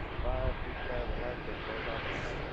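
American Airlines airliner rolling for takeoff on runway 27 left at Philadelphia, heard as a steady, loud, broad jet roar that stays constant throughout, with faint voices underneath.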